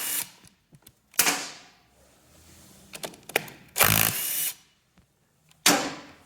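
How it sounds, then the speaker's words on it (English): Impact wrench removing the half nuts on a Monarch 10EE lathe lead screw, several short bursts of hammering whirr, the longest near the middle, close up with quiet clinks between and no talk. "Let's get an impact on there."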